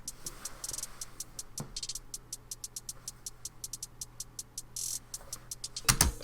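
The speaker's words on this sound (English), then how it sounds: "I just went through and sliced different hi-hats and made a little pattern." Sliced hi-hat samples arranged into a quick, syncopated pattern for a future bass drum beat, crisp ticking hits with short rolls and an open hat, playing alone at moderate level over a faint low hum.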